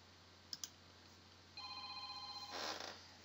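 A phone rings indoors during a computer speech-recognition session, a steady electronic tone that starts partway through and lasts about a second before a brief louder burst, faint and with no one speaking.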